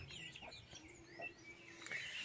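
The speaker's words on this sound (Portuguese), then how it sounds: "Aqui tá a galinha com as duas angolinhas que nasceram aqui." A hen with two newly hatched guinea fowl chicks clucks softly in a backyard poultry setting, faint and distant clucks mixed with thin high chirps and peeps.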